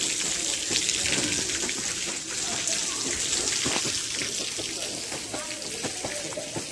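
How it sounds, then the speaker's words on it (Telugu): Water runs steadily from a tap where feet are washed at an old hilltop temple, a close continuous splashing gush with light dripping detail throughout. "ఇక్కడ కాళ్ళు కడుక్కొని వెళ్ళాలి."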